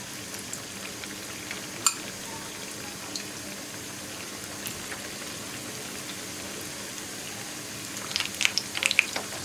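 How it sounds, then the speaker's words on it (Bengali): Flour-coated chicken pieces frying in hot oil, a steady dense sizzle and crackle like rain running throughout, with a few sharper pops near the end; close, with no voices. "জালটা কমিয়ে ভাজলে মাংসটা সেদ্ধ হবে ভালো, ক্রিস্পিও হবে"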